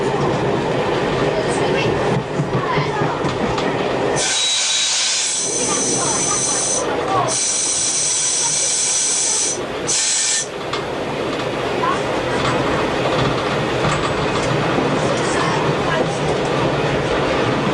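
Train running into the down bay platform at Wickford, a steady loud rumble and hiss of the moving train with brief hissing brake or air bursts midway, continuous throughout.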